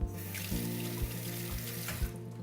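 Sage leaves rinsed under a running kitchen tap, a steady broad rush of water splashing into the sink with small shifts as the leaves are moved, close and continuous, no talking.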